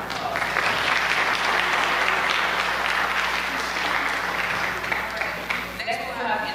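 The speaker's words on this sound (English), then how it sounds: "give a round of applause" Audience applause fills a university convocation hall at a Martin Luther King and Black History event, dense steady clapping sustained for several seconds before tapering at the end.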